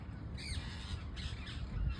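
Several birds roost together in a tree, mostly crows giving short cawing and squawking calls against a steady outdoor background, with a couple of distinct calls standing out.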